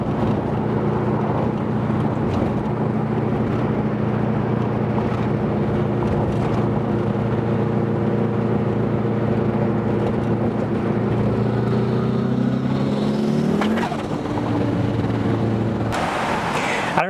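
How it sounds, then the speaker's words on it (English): Engine of a 500 hp boosted car under a hard pull, a loud continuous drone with rising harmonics that shift near the end, and a sharp pop as boost comes on, with wind buffeting throughout. "there was a pretty loud pop when I got on boost right there"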